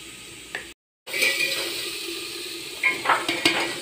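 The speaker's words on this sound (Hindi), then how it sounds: "ये इसके अंदर प्याज डाल दिए" Onions drop into a hot pan of mustard-greens curry and sizzle steadily up close, with a few metal clinks and stirring scrapes after a brief silent gap.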